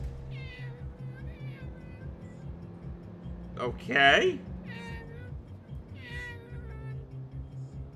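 A person's voice imitates a cat, giving one loud, drawn-out meow in the middle. Softer speech and short vocal sounds come before and after it.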